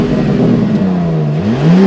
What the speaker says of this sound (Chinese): 那接下来我们听一下这台装了全新6缸发动机的 G500